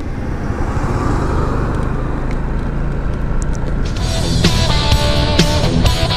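A car rolls slowly along a sandy road in San Nicolas, Pangasinan, its engine rumbling steadily close by, with the noise swelling and brightening toward the end.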